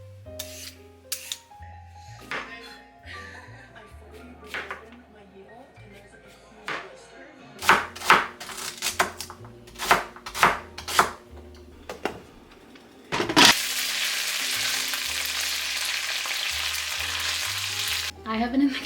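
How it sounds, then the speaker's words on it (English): A knife chops vegetables on a cutting board in a home kitchen, sharp clustered knocks in uneven bursts, before a loud steady sizzle of frying takes over near the end. "I need to chop so many vegetables."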